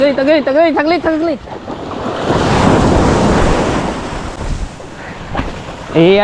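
Ocean waves surge around a small wooden outrigger boat as it struggles to dock in rough surf, with loud, sustained wash and wind noise building through the middle; voices call out at the start and end.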